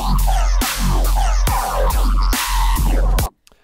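EDM bass synth music built in Ableton Live: loud, heavy, wobbling bass notes pulsing in a steady rhythm of four bursts, then cutting off abruptly.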